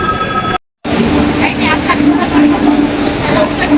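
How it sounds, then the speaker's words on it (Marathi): A train pulls out of a station platform, a steady rolling rumble with faint rail squeal close by, continuing after a short break, with some talk in the background. "आता हे ट्रेन पण निघाली आमची ट्रेन होती"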